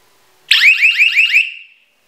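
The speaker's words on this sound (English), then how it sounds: "when you pull that pin, it makes a very, very loud noise" A personal body alarm over 20 years old, set off by pulling its pin, lets out a very loud, shrill warbling wail for about a second, then fades and cuts off into silence.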